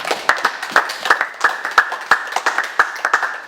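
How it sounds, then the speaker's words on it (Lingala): Rhythmic hand clapping from a church congregation, a steady run of sharp close claps at a brisk, even pace with no talking over it. "Acclamons très fort."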